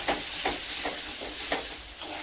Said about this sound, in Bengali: এবারে এটাকে খুব ভালোভাবে কষাবো,